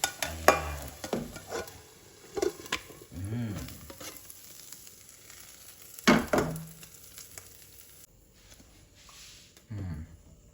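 Corned beef and eggs frying in a pan, with sizzling and bursts of stirring and scraping that come and go in short clusters, some louder clinks, and quieter stretches between.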